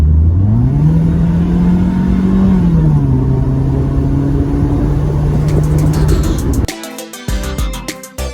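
A Mercedes SLK convertible drives with the top down, its engine note droning steadily under wind and road roar and rising in pitch as it accelerates. Near the end the engine drone drops away and a different, brighter sound takes over.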